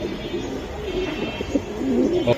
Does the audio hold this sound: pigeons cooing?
yes